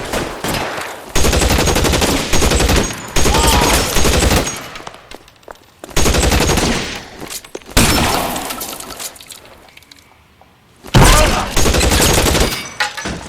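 Heavy gunfire in the L.A. Noire video game, long loud sustained bursts of automatic fire with shattering impacts, broken by short pauses and tapering off near the end.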